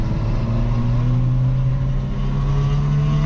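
Mazda Miata race car on a track, braking hard while closely tailing a Porsche: a loud, steady engine drone with shifting harmonic tones throughout, close and continuous with no talk.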